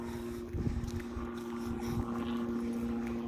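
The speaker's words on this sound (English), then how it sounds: "So we've got the helicopters out this morning." A steady low mechanical drone with a sustained hum hangs in the background, continuous and fairly distant, like a helicopter passing overhead.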